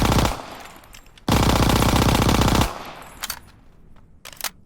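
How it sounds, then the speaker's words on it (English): M1A1 Thompson submachine gun firing in a Call of Duty video game, two rapid automatic bursts, loud and close, with a few scattered single shots afterward. "the M1A1 Thompson, which I believe may be a 5-shot"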